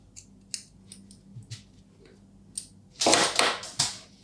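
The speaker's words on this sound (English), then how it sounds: "you can just trim that off to finish" Scissors snip off the yarn end of a crochet hem, with a few light clicks followed by a louder, sharper cutting burst near the end, close up and with no talking.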